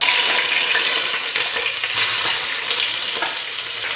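Three sliced onions fry in hot sunflower oil for biryani, giving a loud, steady sizzle with crackling bursts and occasional stirring scrapes throughout.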